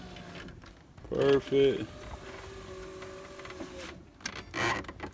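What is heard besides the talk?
Tahoe window regulator motor running after replacement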